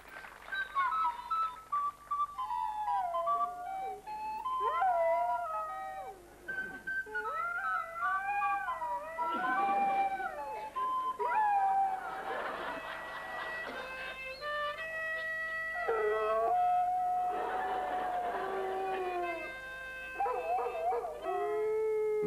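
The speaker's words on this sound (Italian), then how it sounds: "E che dire del cane domestico che ulula?" Several dogs howl in long, rising and falling wails that overlap and swell, with occasional whimpering yips, continuing steadily throughout.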